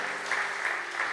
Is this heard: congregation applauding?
yes